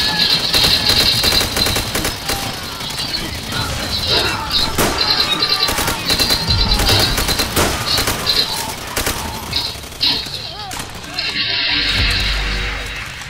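Loud, continuous Call of Duty game gunfire rattles in rapid machine-gun bursts throughout, mixed with other battle noises, while a player talks over it at times.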